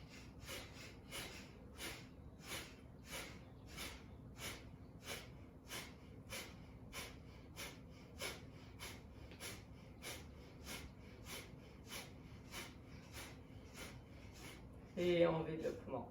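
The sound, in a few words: Kapalabhati rapid forceful breathing exercise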